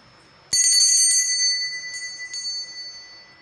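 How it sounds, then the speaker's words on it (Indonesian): A bell marking a playing-card reading: a single bright, metallic strike rings out clearly in a quiet room, then its shimmering tone slowly decays over a few seconds. "ditandai dengan lonceng tanda berbunyi"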